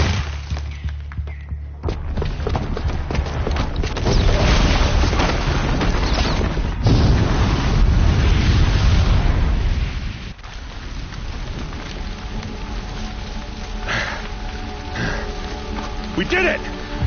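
A booby-trapped bomb goes off in Horizon Zero Dawn, a loud deep rumbling blast with a sustained roar that swells twice, then falls back to a lower, steadier din.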